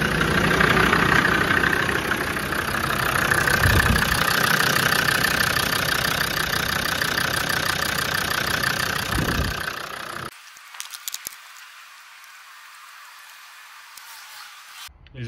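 A Land Rover Td5 diesel engine idles with a steady, rough, knocking rumble for about ten seconds, then cuts out abruptly, leaving a faint background with a few small clicks.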